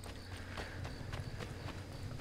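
A horse's hooves clip-clop at an even walking pace in the video game Assassin's Creed III Remastered, with about four soft, faint, regular hoof beats over a low background hum.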